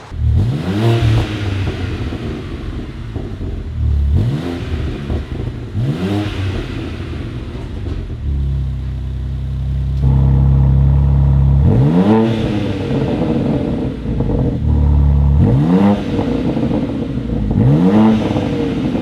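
BMW M3 Competition xDrive G80 with an aftermarket exhaust and valve control, revving repeatedly from idle, each blip rising sharply then falling back, with a deep burbling exhaust drone between revs, loud and close.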